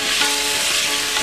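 Ghee sizzling hard with vindaloo paste in a hot pan for a beef vindaloo, a close, loud, continuous frying hiss with crackly texture throughout the short moment.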